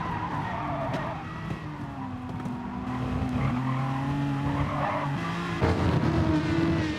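Race cars braking into a chicane in a sim racing game: engines whine and drop in pitch under heavy braking, with tyre squeal and a sharp downshift near the end, loud and unbroken.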